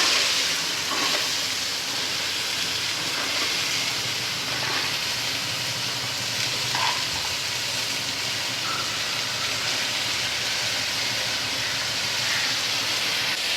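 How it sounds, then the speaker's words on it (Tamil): Cut green beans frying in oil in a home kitchen, a steady bright hiss and sizzle that holds at an even level throughout with no talking. "எண்ணெயிலே வந்துட்டு இந்த காய் நல்லா வதங்கட்டும்"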